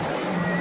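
Sea waves washing in at Murdeshwara beach, a steady broadband wash of surf mixed with wind noise, filling the whole moment without a break.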